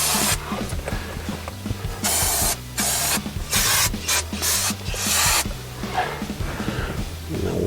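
Brake cleaner sprayed from an aerosol can onto car brake parts, giving several loud hissing bursts of varying length separated by short pauses, close to the listener.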